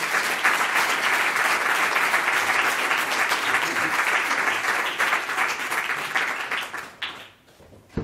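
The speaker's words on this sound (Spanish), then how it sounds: "Gracias, Assumpta. Un aplaudimiento." An audience at a medical talk on dry-eye treatments applauds after the speaker is introduced, dense steady clapping filling the room for about seven seconds before tapering off.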